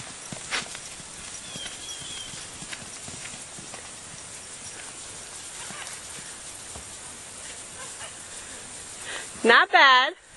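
A gaited horse carrying a nervous rider clip-clops steadily across the ground in a soft, even hoof rhythm, with brief talk near the end.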